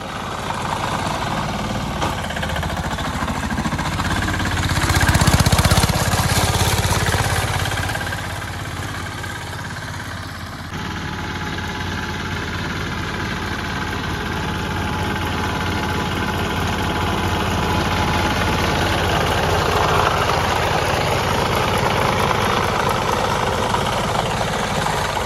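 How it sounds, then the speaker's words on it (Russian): Small Italian BC sickle bar mower with a petrol engine running steadily throughout, a continuous mid-pitched engine drone with a louder swell early on and a constant tone for most of its length, no voices. "Самая быстроходная и маневренная итальянская ножничная косилка BC."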